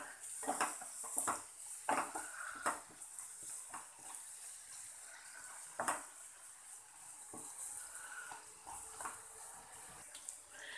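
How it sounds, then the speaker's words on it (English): Masala for chicken sukka frying in a pan, a soft sizzling bed with scattered clinks and scrapes of stirring at uneven intervals, fairly quiet and close. "So fry it nicely."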